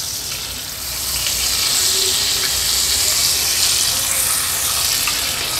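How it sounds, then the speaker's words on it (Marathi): Mackerel fillets fry in oil on a flat pan, giving a steady, close, loud sizzle and crackle that swells slightly after the first second and holds evenly throughout. "हे बघा, मागच्या बाजूनी पण हा बांगडा व्यवस्थित फ्राय झाला आहे।"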